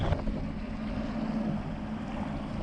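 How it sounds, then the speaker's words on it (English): Steady wind rumbles and buffets the microphone throughout, a continuous low roar with no voices. "It's a little bit windy, which is annoying"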